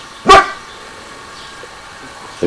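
A single dog bark rings out sharply near the start, followed by a quiet stretch and a brief second yelp at the end, heard in a humid indoor setting where a dog is tied up.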